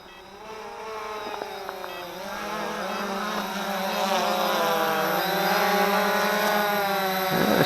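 A Cheerson CX-20 quadcopter drone in flight, its buzzing propeller whine shifting in pitch as it manoeuvres, growing louder and closer over several seconds, with no talking.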